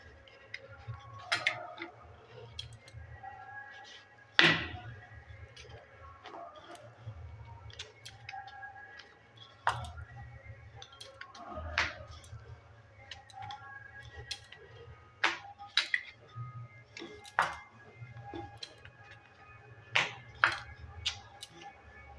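A rolling pin works milk powder paratha dough on a board, with light ticking taps and soft knocks recurring irregularly over a low background hum, close and quiet, with occasional faint voice.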